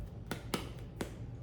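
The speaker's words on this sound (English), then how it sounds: "That's the sound of a really good bread." Crisp crackles from the crust of fresh ciabatta bread, three or four short dry bursts spread over a second and a half against a quiet kitchen background with no talking.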